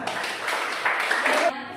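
A small audience in a classroom-style setting gives a brief burst of clapping, dense and steady, with a voice speaking faintly over it before it cuts off.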